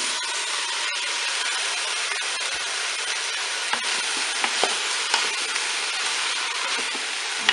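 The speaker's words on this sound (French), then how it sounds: "On va ajouter maintenant tous nos légumes." Vegetables frying in a Cookeo pot, a loud, constant hiss and sizzle with a few sharp crackles and stirring clicks scattered across it.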